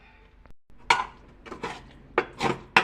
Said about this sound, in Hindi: अब इसे कुकर को कर दूंगी खाली